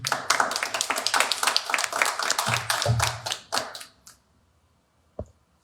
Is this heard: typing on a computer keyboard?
no